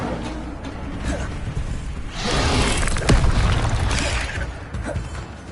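Incendio fire spell cast in Hogwarts Legacy, a whooshing burst that swells midway into a roaring flare with a sharp crackle, over steady game ambience.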